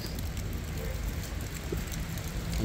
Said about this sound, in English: it's raining down proper